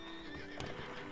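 A horse neighs once in a short, faint whinny, and a few soft hoof clip-clops sit under a steady background hum in a Western gunslinger comedy scene.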